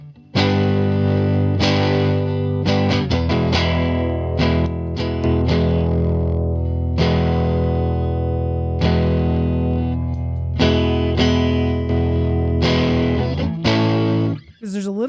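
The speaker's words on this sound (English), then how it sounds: "if I want a little less drive, I'd turn my volume down on the guitar." Electric guitar through drive with its volume knob turned down, played as ringing chords and single notes with a mild crunch, close and continuous with no talking.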